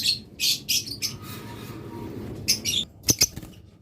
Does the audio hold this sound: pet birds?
yes